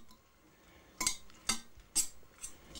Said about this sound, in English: And then just mix that up